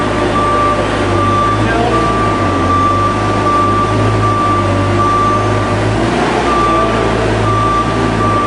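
A Versa Lift 40/60 forklift runs with a loud, steady engine drone while a reversing alarm sounds a thin, repeating tone over it. Someone talks briefly above the machine noise.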